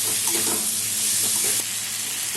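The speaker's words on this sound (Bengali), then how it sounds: "এখন কুচি করা পেঁয়াজ আর কাঁচা লঙ্কা দিয়ে দেবো" Chopped onion and green chillies fry in a pan of hot oil for a Bengali fish-head chorchori, giving a loud, steady broadband sizzle with faint stirring scrapes, close up and continuous, with no voices.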